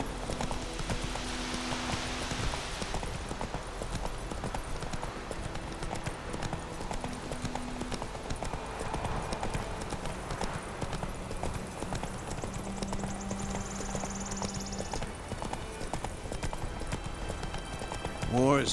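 A horse's hooves clip-clopping in a steady rhythm in the Witcher 3 video game, running under game music and character dialogue for most of the stretch.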